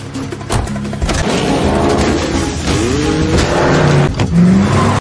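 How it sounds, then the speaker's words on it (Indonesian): A car speeds away during a film chase scene, its engine loud and close, revving up and rising in pitch with a brief squeal of tyres. "mereka lalu pergi menggunakan sebuah mobil dan terlihat dikejar oleh dua anak buah Lucas"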